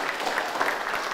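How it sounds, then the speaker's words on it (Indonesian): A classroom of students applauds themselves after a group activity, a short, dense burst of many hands clapping at moderate volume with no talk over it. "tepuk tangan untuk diri kamu"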